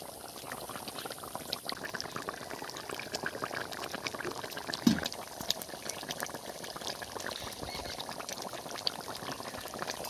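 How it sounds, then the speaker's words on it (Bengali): Katla fish curry with cashew paste simmering in a pan, giving a steady, soft bubbling and sizzling hiss that continues evenly throughout at close range, with no voices. "আর 5 মিনিট ফুটবে এইভাবে।"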